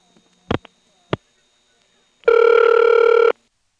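Step-by-step telephone exchange switching equipment in Ramseur, North Carolina, 1977, giving a couple of sharp isolated clicks followed by a loud, steady buzzing tone lasting about a second.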